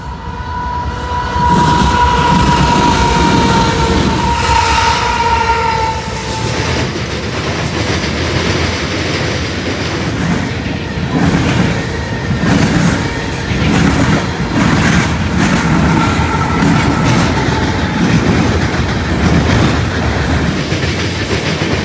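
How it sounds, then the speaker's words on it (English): CSX eastbound mixed freight train with two GE Evolution-series locomotives, one leading and one mid-train as a distributed power unit, rumbling steadily past close by with continuous wheel and car noise and a tonal horn-like hum early on. "the final eastbound was a CSX mixed freight with two Gevos, one at the front and one in the middle as a DPU."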